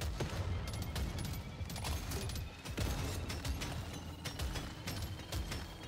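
A smart rifle in Deep Rock Galactic Survivor fires rapidly, producing a dense, fast run of faint clicking shots that continues steadily over a low rumbling game backdrop.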